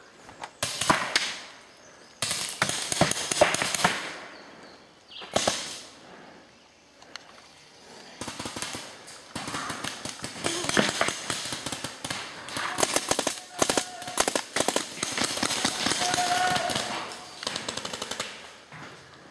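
Paintball guns fire during an outdoor paintball game, with rapid bursts of sharp snapping shots in quick clusters and pauses between them, some close and loud, others fainter.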